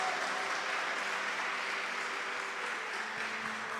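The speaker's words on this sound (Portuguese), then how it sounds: "Vamos aplaudir?" A church audience claps together at a priest's invitation, a steady wash of applause that sounds somewhat distant and uniform, holding evenly throughout.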